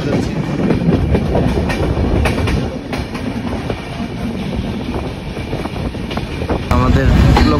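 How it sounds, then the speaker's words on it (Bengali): The Madhumati Express with LHB coaches rolls across switch points after rain, heard from on board as a loud, steady rumble with clattering wheel clicks and faint voices in the background. "আমাদের এক লাইন থেকে আরেক লাইনে চলে যাচ্ছি"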